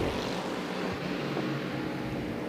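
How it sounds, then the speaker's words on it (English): A Century Motorsport Ginetta race car with a General Motors V8 rumbles past in a Dubai endurance race, a dense, low, continuous roar heard briefly from a distance. "That was the rumble of the Century Motorsport Ginetta with the General Motors V8."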